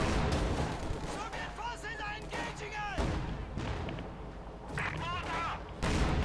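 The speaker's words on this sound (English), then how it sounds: "Again, further heavy mortar fire." Heavy mortar fire in the strategy game Company of Heroes 2 booms and rumbles almost continuously through the battle, with repeated dull blasts under a commentator's voice.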